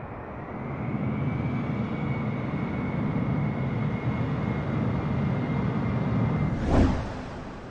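Steady roar of an airliner in Microsoft Flight Simulator during landing, a broad continuous engine and wind rush with a faint high whine, ending in a brief swelling whoosh near the close.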